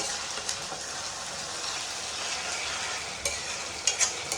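Ginger garlic paste sizzles in a pan while it fries, a soft, steady hiss with a few brief stirring scrapes and taps, close and fairly quiet, with no voices.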